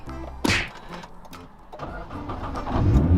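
A Nissan GT-R R35 starts up: a sharp click and thud, a quiet moment, then the engine cranks and catches, swelling into a loud, deep, close rumble.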